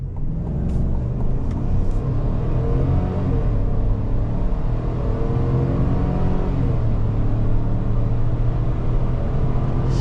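A 2026 Chevy Tahoe Z71 accelerates hard from 0 to 60 mph, its engine note rising steadily through the revs with a heavy, loud interior rumble that continues unbroken, with a brief shift in pitch partway through.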